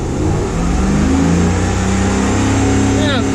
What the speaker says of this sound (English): Rev it now to go to 80.